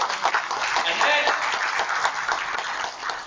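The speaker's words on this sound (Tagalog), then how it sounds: "Palakpak naman po." A crowd at a political party gathering claps in a thick, continuous wash of applause that swells early and slowly tapers off, with no talking over it.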